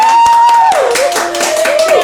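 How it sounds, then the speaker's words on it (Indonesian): An audience at a podcast taping on student entrepreneurship claps along in a quick patter of hands, heard under a tone and a voice that are both fairly close and loud. "Oke, tepuk tangan dulu dong."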